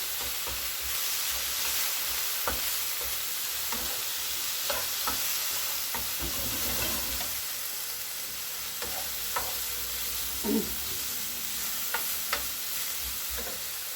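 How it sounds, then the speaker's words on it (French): Spoon stirring a homemade cheesy bread mixture with cumin added, soft scraping and tapping against the bowl in an irregular rhythm over a steady low background hiss, close and fairly quiet. "Vous mélangez bien."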